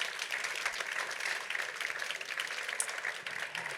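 An audience at a round-table debate on adapting cities to climate change breaks into steady applause, a dense, even wash of many hands clapping at moderate volume throughout.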